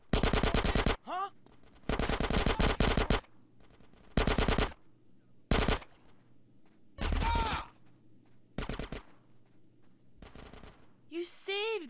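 Loud bursts of automatic gunfire from the video game GTA San Andreas, repeated volleys over roughly twelve seconds with short gaps between them, plus brief grunts and vocal sounds in between.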